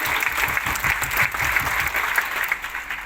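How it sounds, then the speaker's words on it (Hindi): Loud, sustained audience applause at a Modicare India success-mindset seminar, dense clapping filling the room steadily without a break. "और जोरदार तालियां क्रिएट कीजिए"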